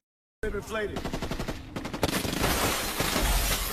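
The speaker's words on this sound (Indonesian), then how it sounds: "berondongan peluru berhasil menghancurkan tubuh si Ocelot" Rapid machine-gun bursts in a film rattle out after a brief silence, building into a dense, continuous barrage of automatic fire.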